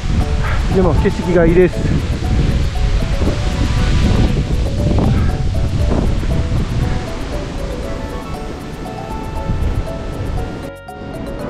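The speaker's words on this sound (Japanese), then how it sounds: "ちょっと、風がきつくなってきました。" Strong, gusty wind buffets the microphone on a mountain trail, a steady broadband roar that rises and falls, with a person speaking briefly over it near the start.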